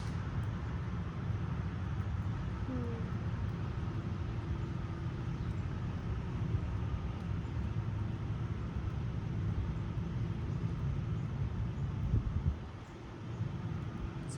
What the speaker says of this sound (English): Sorry, this truck is like loud.